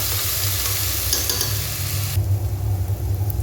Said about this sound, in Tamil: இந்த எண்ணெய் நெய் எல்லாம் சேர்த்து நல்லா இருக்கா வறுத்துக்கோங்க